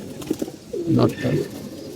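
Pet pigeons coo softly in a short, low, rolling burst, fairly close, with some background noise.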